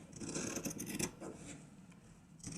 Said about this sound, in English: we can just trim it down a wee bit more now, closer to the edge